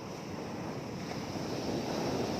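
Steady broadband wash of surf rolling onto a beach, with wind rushing across the microphone throughout; no voices.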